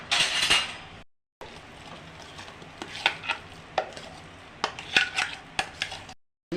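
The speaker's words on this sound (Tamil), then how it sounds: "இதோட மிக்ஸ் பண்ணி கொஞ்சம் நேரம் கிளறிக்கிட்டே இருக்கணும்" Almond paste for badam halwa is stirred in a pan, producing soft scraping and occasional clinks of the spoon against the metal over a faint sizzle, close by and with no talking.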